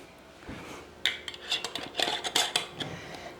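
A lid being fitted onto a glass jar of olives in oil, a quick run of sharp close glassy clinks and taps, quiet at first and then clustered, with no talking.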